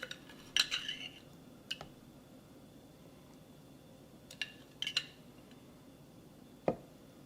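Chili oil and seasoning being mixed in a bowl, a few faint scattered clinks and scrapes of a utensil against the bowl, separated by quiet pauses.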